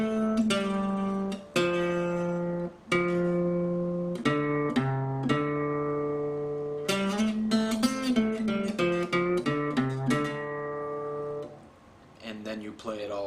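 Acoustic blues guitar playing a blues lick, a fingerpicked run of plucked single notes and ringing strings, close and clear, with a few brief pauses between phrases.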